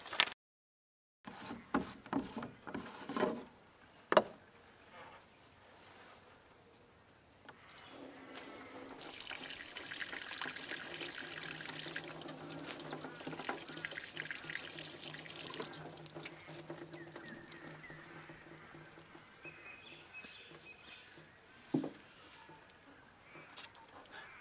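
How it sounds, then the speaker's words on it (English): Water runs from the tap of a DIY solar shower rigged on a Volkswagen campervan, a steady close splashing stream lasting several seconds, preceded by handling knocks and followed by fainter trickling and clicks. "I'm going to turn the tap on"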